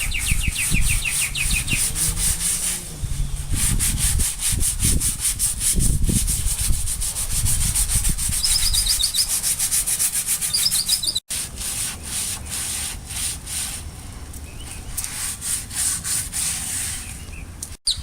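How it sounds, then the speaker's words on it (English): Sandpaper scrubbing loose rust off metal parts of a Snap-On JCN21 creeper stool, loud and close, in steady rapid back-and-forth strokes, with birds chirping faintly outdoors. "Alright, so what we want to do, Mace, you want to try to sand down, just get all this loose rust off of these pieces."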